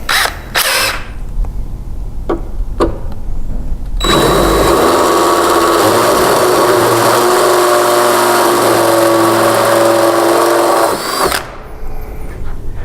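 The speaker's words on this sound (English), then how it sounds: "Using your drill and our recommended 3/8 fluted drill bit, we're going to go ahead and open the hole." A power drill with a 3/8 fluted bit whines steadily for several seconds as it bores through a metal bracket on a Honda HRR lawn mower, preceded by a few short clicks and bursts of the motor.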